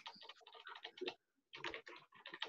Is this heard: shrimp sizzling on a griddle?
no